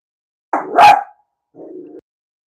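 A dog barks at another dog and its owner in the front yard: one sharp close bark, then a lower, shorter woof after a brief pause, with no voices.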